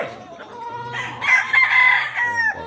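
Bullstag gamecocks crowing at a rooster farm, a couple of loud, close cock-a-doodle-doo calls with nearby clucking, no talk.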